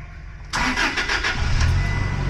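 A Toyota Hilux engine cranking without catching: a sudden onset of rapid, rhythmic starter churning, loud and close, with the motor's low drone continuing under it and no talking.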